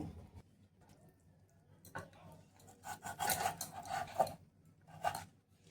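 Knife cutting chicken liver and gizzard pieces in half on a board, heard as scattered rasping cuts that get louder and denser toward the end, with faint talk in the background.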